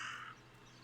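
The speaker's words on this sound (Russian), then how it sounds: "ворона, я сейчас ее убью." A crow in the video game Martha Is Dead lets out a single short, faint caw that fades within a fraction of a second over quiet background ambience.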